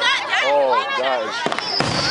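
Canada Day fireworks over Castlegreen in Thunder Bay pop and crackle briefly near the end, mostly under a nearby person talking, with a few sharp bursts in the background.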